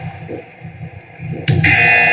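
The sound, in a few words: buzzer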